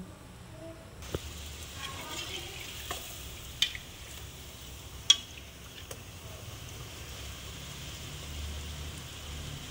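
Luchi made from desi wheat flour frying in hot oil: a steady soft sizzle throughout, broken by a few sharp ladle or pan clicks.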